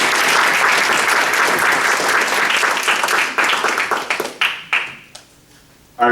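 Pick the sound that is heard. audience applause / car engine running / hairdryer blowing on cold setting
audience applause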